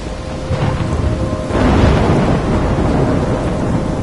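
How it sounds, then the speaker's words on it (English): Thunderstorm with heavy rain in the Life Is Strange video game, a steady dense downpour swelling as a deep rolling thunder rumble rises midway and lingers under the hiss, with no voices. "I'm trapped in a storm?"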